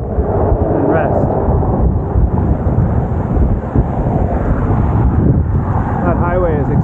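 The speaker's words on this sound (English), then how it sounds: "It is extremely windy here." Strong wind blasts against the microphone beside an extremely windy highway during a cross-Canada bike tour, producing a constant loud rumbling buffet with some faint background noise.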